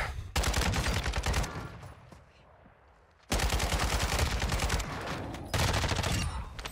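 Sustained bursts of rapid automatic gunfire in a shooter video game on Ashika Island, loud and dense, broken by a brief quieter gap before the firing resumes.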